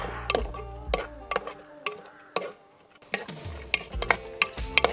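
Onions sauté in a little oil, with a spoon or spatula scraping and tapping the pan in sharp, irregular strokes over a soft, low sizzle.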